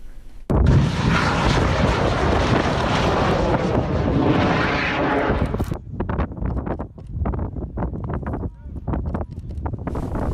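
A home-built steam rocket launching in the desert: a loud, sustained roaring blast that swells abruptly, holds for about five seconds, then drops away to gusty wind and scattered outdoor noise.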